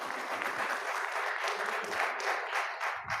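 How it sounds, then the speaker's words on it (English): An audience claps for a speaker after his morning talk. The applause is a brief, even wash of many hands, moderately quiet and fading slightly at the end. "let's give Dr. Williams a round of applause for his talk this morning."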